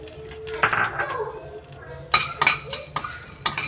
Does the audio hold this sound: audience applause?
no